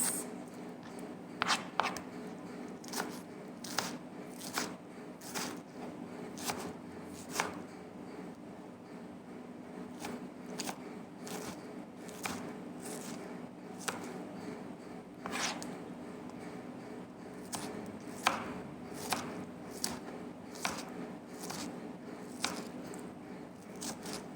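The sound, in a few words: chopping tomatoes with a knife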